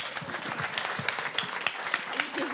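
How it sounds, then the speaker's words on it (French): Applause from the audience at a book prize ceremony, a moderate crowd clapping steadily with a few sharper individual claps standing out and faint murmuring underneath. "gardez vos applaudissements aussi pour Dolphy et Marilyn de François Saintonge."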